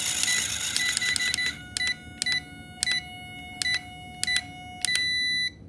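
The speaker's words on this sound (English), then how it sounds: "you hear that big beep like that, it means it's centered." A run of short electronic beeps from a WLtoys K989 RC car in an uneven rhythm, ending in one longer, steady beep signalling steering centered, close and clear over a low hum.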